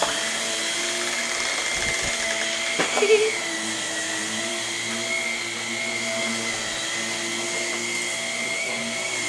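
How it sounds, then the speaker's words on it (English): A household vacuum cleaner runs over the floor with a steady, close droning whir that holds for the whole stretch. A brief knock or bump sounds partway through. "Mommy's going to come vacuum over here."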